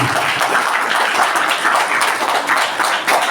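An audience at a Netaji Subhash Chandra Bose Jayanti celebration claps loudly and steadily, welcoming two girls, Divyanshi and Chhavi, onto the stage; dense, continuous applause with no talk.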